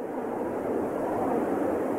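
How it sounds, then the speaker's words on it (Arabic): Constant rushing wind noise, a smooth broadband whoosh that holds steady throughout with no gusts or breaks, moderately loud and alone. "صوت ريح."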